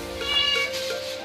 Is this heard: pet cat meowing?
yes